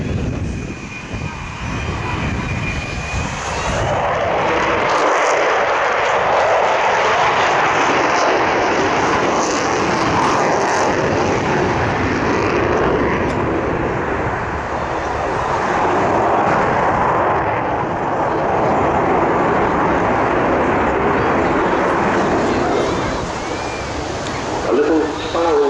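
The Avro Vulcan bomber XH558, flown by a Rolls-Royce chief test pilot, passes overhead with a loud, sustained jet roar that swells and fades across the whole stretch, with a voice talking over it at times.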